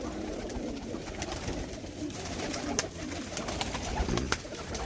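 Breeder pigeons in a loft coo softly and steadily, close by, over a constant rustling background with occasional sharper clicks.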